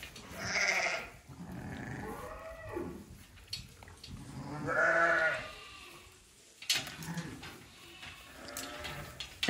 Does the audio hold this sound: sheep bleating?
yes